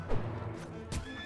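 In Mount & Blade Warband, a horse gives a short, sharp neigh with clip-clop hoofbeats beneath, loud and close amid brief clashing combat noise.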